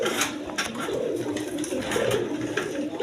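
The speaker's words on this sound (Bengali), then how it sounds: "এইখানে একটা রাজগোল্লা কবুতর, নর কবুতর আছে দেখেন" A male Rajgolla pigeon coos softly nearby, a steady low murmuring rumble of repeated throaty calls with no voices over it.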